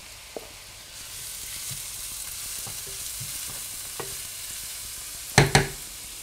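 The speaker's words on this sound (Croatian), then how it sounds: "I šargarepu pržemo dok ona ne omekša." Carrots and onion frying in a pan for Moscow borscht make a steady close sizzle, with a few soft stirring taps and two sharp scraping clacks near the end.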